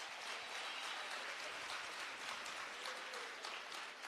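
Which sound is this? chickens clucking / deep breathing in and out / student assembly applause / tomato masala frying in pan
student assembly applause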